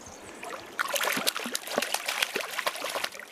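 A small trout stream trickles and babbles close by, with irregular watery splashes and gurgles that grow livelier after the first second and continue steadily to the end.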